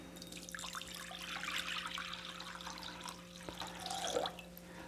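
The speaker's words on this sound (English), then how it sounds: "500 grams or 500 milliliters of pure water." Pure water is poured into a bowl holding a chemical compound, a steady soft splashing and trickling that runs for several seconds, faint and close, over a low background hum.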